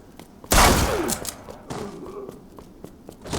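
A single loud, close shotgun blast in Resident Evil Re:Verse, a sharp boom that rings out and decays, followed by faint footsteps and light thuds.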